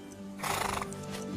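A black horse neighs in an animated fairy-tale setting, a brief loud whinny swelling in the middle over steady background music, with no talking.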